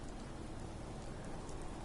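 Steady, dense rain falls and patters on surfaces in the Sanctuary Hills area of a game world, a constant close hiss without pauses or voices.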